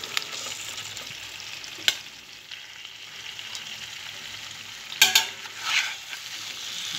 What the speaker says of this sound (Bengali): কাশ্মীরি লঙ্কা গুঁড়োটা অ্যাড করে দিলাম, নাড়িয়ে দেব